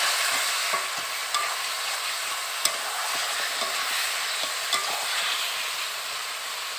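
Mutton curry sizzles and fries steadily in a pot, village style, while a spoon scrapes and stirs through the thick masala with a few sharper clinks, alone and close.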